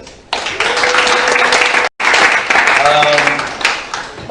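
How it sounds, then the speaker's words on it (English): Crowd at an art and technology anniversary expo giving a loud, close round of applause that starts abruptly, briefly cuts out, then resumes with voices and tonal sounds mixed in. "I think they deserve a bigger round of applause."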